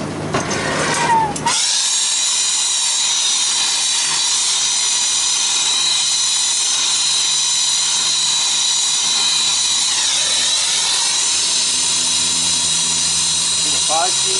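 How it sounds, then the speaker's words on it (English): A torch heats refrigeration copper tubing during annealing, giving a loud, continuous hiss of steam and flame that runs steadily throughout after a short rustle at the start. "See the fog steam coming out of it?"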